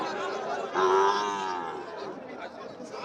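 A single drawn-out moo from Sahiwal cattle rises over a murmur of nearby voices and crowd chatter at a border-area cattle market, fading gradually.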